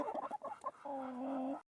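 A Sussex hen clucks close to the microphone, a quick run of short clucks that stretches into one longer drawn-out call before it stops abruptly.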